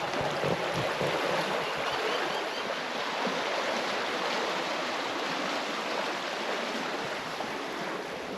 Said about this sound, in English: we've come to the creek crossing